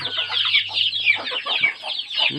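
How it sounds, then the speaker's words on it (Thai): Chickens on a fighting-cock breeding farm cluck steadily and busily throughout, a dense flock close by with overlapping calls and no talk. "โอ้โหทำไมน้องอ้นไก่เยอะจังอะ"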